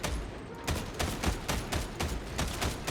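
Dense gunfire in Warhammer 40k Darktide, rapid overlapping shots in a hangar firefight forming a loud, continuous fusillade with regular bursts roughly every quarter second, no talking.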